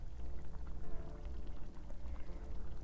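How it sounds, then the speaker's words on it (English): Tomato fish soup simmering in a covered pot over medium heat, a soft steady bubbling and gentle crackle, faint and close, with no voices. "let the soup simmer in medium heat for another 5 minutes"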